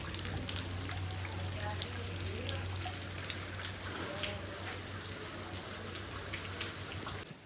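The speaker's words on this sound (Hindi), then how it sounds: "शाम के टाइम हो रही है बारिश" Heavy evening rain pours down steadily in a dense, even hiss with scattered drips close by, with a low steady hum beneath and a faint voice at times.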